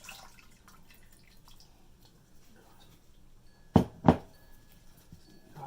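Whey drips from heated mozzarella curd, producing a faint soft trickle followed by two distinct close liquid splats near the end, over a quiet background.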